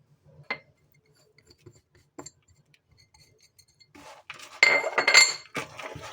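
Spices including cumin, paprika, turmeric, pepper and thyme stirred into a stuffing in a bowl: faint isolated clinks first, then a dense burst of scraping and clattering of a utensil against the bowl, close by with no talking.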